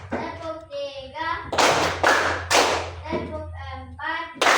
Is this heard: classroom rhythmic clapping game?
yes